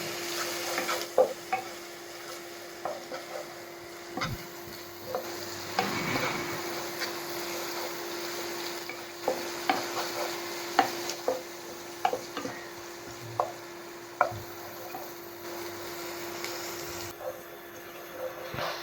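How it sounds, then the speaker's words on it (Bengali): Onions frying in oil in a pan, stirred with a utensil, a steady soft sizzle broken by irregular scraping clinks of the spoon against the metal, close and moderately quiet, with no talking. "দেখুন পেঁয়াজটা আমার অনেকটাই ভাজা ভাজা হয়ে এসছে"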